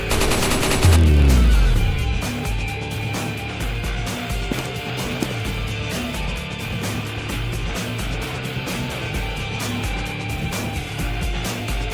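Rapid bursts of automatic gunfire from Team Fortress 2 crackle almost nonstop over a dense, busy background of game effects and music.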